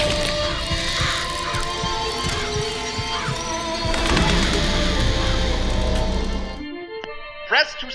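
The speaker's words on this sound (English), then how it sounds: "Press to summon murderous crows." Summoned murderous crows from the Murder of Crows vigor in BioShock Infinite, a dense flurry of cawing and flapping over a busy game soundscape, cutting off abruptly near the end.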